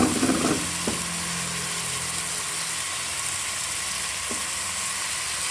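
Chopped vegetables drop into hot oil for a vegetable pulao, bursting into a loud crackle at first and then settling into a steady sizzle with two brief utensil clicks.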